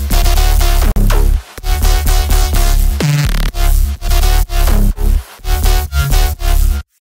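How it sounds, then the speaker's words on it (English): A thick bass house synth bass lead plays choppy, gated phrases in short bursts with brief gaps, loud, gritty and wide, with a sweep near the middle and no talking. "The bass lead sounds like this."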